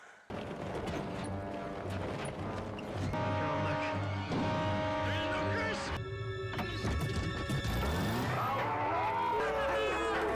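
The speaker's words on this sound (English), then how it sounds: "I'm gonna pop the clutch and get it started." A van is push-started by popping the clutch, with the engine catching and revving loudly over the clatter and clunks of the vehicle, mixed with dramatic score, from the TV show Lost.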